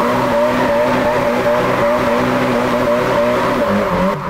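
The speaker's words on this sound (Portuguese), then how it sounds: "Eu realmente aprendi a fazer drift do nada." A car drifting in a video game, its engine droning steadily and loud with a sustained squeal of tires running throughout, no voices over it.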